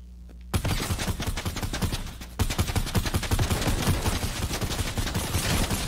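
Rapid automatic gunfire from a video game shooter bursts in loud and close after a brief quiet start, continuing as dense, overlapping volleys with a sharp jump in intensity partway through.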